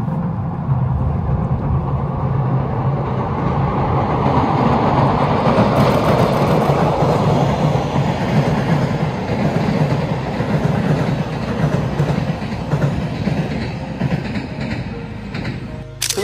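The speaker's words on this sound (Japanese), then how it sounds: "というわけで訓練列車やってまいりました。" A JNR Class DD51 diesel locomotive hauls a training train past close by, a loud sustained rumble and rattle of wheels that builds and then trails off.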